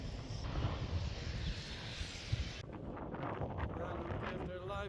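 Strong, cold wind buffeting the microphone in low, rumbling gusts in the Italian mountains, close and loud, easing slightly partway through.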